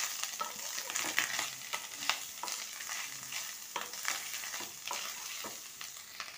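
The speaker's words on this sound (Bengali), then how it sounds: "নারকেলটা খুব ভালো করে আগে নেড়ে নিলাম।" Grated coconut is stirred and fried in a pan, giving a steady soft sizzle with repeated scraping strokes of a spatula throughout.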